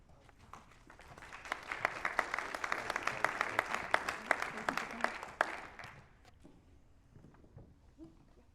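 Audience applause at a Scott County, Arkansas candidates' forum town hall rises over about five seconds of dense, steady clapping, then tapers into scattered claps and murmuring room noise.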